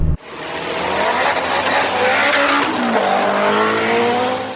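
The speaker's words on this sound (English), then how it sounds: "The noise coming out of this car, it doesn't sound like any Honda I've ever sat in." A turbocharged Honda DC5 engine roars loudly and steadily at high revs, with a rising whine over the rumble, close and continuous.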